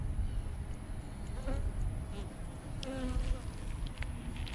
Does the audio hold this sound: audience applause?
no